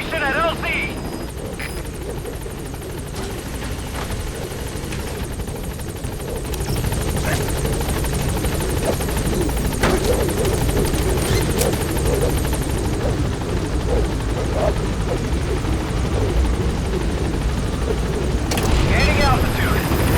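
The Pequod helicopter in Metal Gear Solid V: The Phantom Pain roars steadily throughout, its rotor drone building slightly louder partway through, with a radio voice speaking over it.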